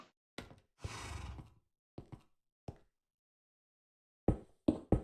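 A horse in Minecraft whinnies and snorts in short, separate bursts with silent gaps between them, alone and close.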